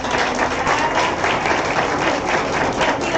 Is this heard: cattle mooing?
no